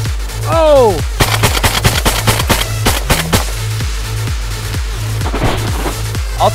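A magazine-fed gun from a Mega Mag tube fires a rapid, loud string of shots at cans outdoors, the reports coming in a fast steady rhythm for several seconds with ringing echoes between them.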